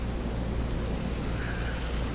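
Steady, dense rain hisses and pours continuously, filling the whole clip with a loud broadband wash and no voices.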